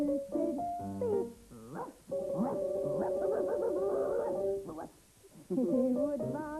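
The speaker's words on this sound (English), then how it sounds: "he would bark like that." A performer on a 1991 children's TV road show voices a dog's barks, a short run of yapping, whining calls, clear and close, with pauses between bursts.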